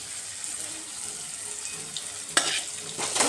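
Chicken goes into a fenugreek-scented tomato masala frying in a pan, a steady close sizzle with a sharp hissing burst as the pieces land, followed by more stirring.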